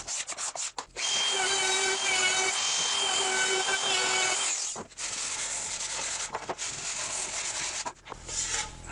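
Steady abrasive rubbing of sandpaper on rough-sawn wood, a dense scratchy hiss in long strokes with brief pauses between passes, close by.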